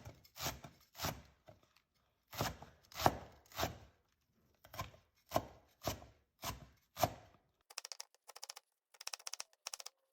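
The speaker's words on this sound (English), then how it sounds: "chop into small, fine pieces about 1/8 in width" Fresh chives chopped finely with a knife on a board, crisp rhythmic cuts in short bursts with pauses, ending in a run of quicker, lighter taps, no voices.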